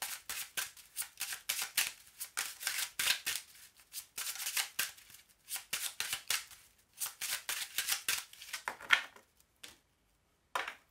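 Oracle cards being shuffled and cut, a run of crisp papery riffles and flicks in quick bursts with short pauses between, close and clear with no voice over them.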